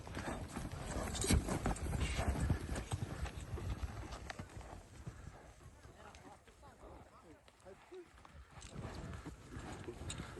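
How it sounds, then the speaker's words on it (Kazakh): A big Kyrgyz horse is led about outdoors, its hooves clip-clopping in a loose, uneven rhythm at moderate distance, while people talk over it throughout. "Өте гүліккен жылқы."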